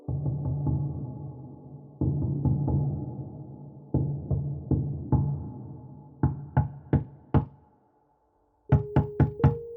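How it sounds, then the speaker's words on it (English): Rhythmic knocking on a door, loud and near: repeated heavy thumps in irregular bursts, then a cluster of sharp knocks after a brief pause, with a faint hum in the background. "Rhythmic thumps on the door echoed my pounding skull."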